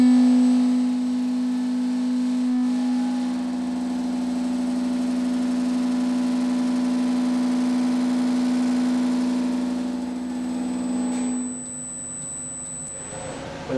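An elevator motor runs under an MCE controller during a KEB motor learn process, giving a steady, even electrical hum with a constant tone. It holds for about eleven seconds, then quiets and stops, with no one speaking.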